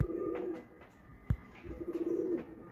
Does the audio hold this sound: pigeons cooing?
yes